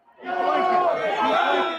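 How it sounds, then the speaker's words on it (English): Pro-Trump crowd clashing with police at the Capitol on January 6, 2021, a dense roar of many shouting voices rising quickly and holding loud throughout. "The pro-Trump crowd fought with the police"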